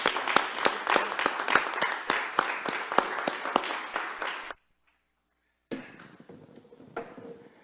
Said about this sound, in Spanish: Yo sí quiero que le demos un aplauso a él para motivarlo.